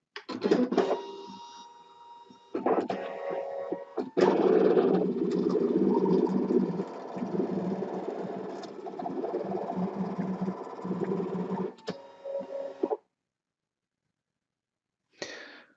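A Brother ScanNCut machine cuts fabric on a high tack support sheet. Its motor whirs and buzzes in shifting mechanical passes with small clicks for about twelve seconds, then falls silent before a brief final whir.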